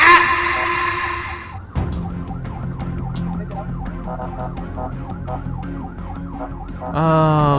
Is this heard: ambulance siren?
yes